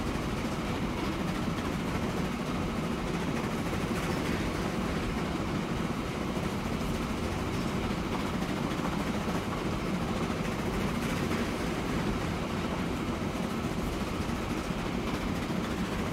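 Trains running in the video game Transport Fever, a dense, unbroken rumble of rolling wheels and rail noise that stays loud and even from start to finish.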